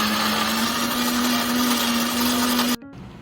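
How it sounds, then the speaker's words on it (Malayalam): A mixer grinder whirs loudly and steadily as it grinds coconut into a curry paste for a prawn coconut curry, then cuts off abruptly near the end, leaving near silence. "അപ്പോൾ ഞാനിപ്പോൾ മിക്സിയിലിട്ട് അരയ്ക്കാൻ പോവാം."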